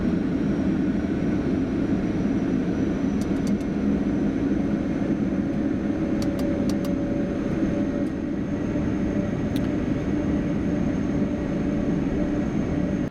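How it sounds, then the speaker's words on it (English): Engine 1 of a Boeing 747 spooling up during start, heard from inside the cockpit as a steady, loud broadband roar with a faint whine and a few brief clicks, with no talk. "Start engine 1. Starting 1."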